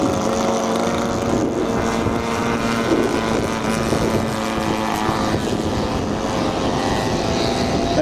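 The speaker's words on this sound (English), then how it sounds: "This aircraft taken off is a side-by-side air coupe, popular civilian aircraft" Ercoupe side-by-side civilian propeller plane taking off, a steady droning engine and propeller hum heard from a moderate distance, fairly even in level throughout.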